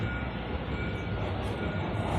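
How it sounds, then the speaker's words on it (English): A noisy tram passing a bus stop in Gothenburg early in the morning, giving a steady, loud rumble and roar that fills the whole moment without a break. "noisy tram."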